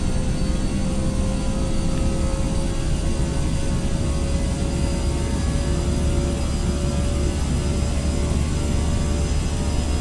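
A race car engine in Forza Motorsport screams at high RPM around 9,500, a loud, steady sustained drone with no gaps and no voices.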